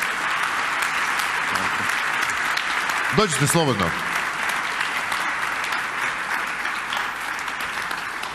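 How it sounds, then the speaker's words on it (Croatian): An audience at a keynote lecture at the BFS 2020 conference gives sustained, dense applause that fills the whole stretch, with a voice speaking briefly over the clapping. "evo još aplauz da vas čujem"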